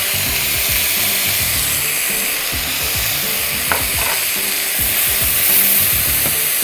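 Chicken with mushrooms and caramelized onions fries loudly in a pan, a constant hissing sizzle with rhythmic scraping and stirring strokes throughout.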